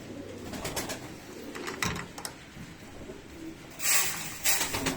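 Pigeons coo softly in a roost, with a couple of brief bird calls and some rustling nearby, no talking.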